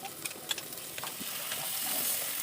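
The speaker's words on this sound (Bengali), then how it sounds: "এখন দিয়ে দেবো পোস্ত আর সরষে বাটা।" A paste of ground poppy seed and black mustard hitting a hot pan, a faint hissing sizzle that rises and holds steady after a few small ticks and taps, close and quiet.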